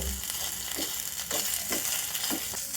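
Ingredients simmer and sizzle in a pan in a continuous close hiss while a spoon stirs them, leaving a few soft, evenly spaced scrapes, with no voices.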